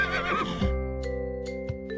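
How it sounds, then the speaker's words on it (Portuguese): A horse whinnies loudly and close, a long shaky neigh that trails off, followed by soft snorts and faint hoof clatter, with no talking. "que vai relinchar de novo."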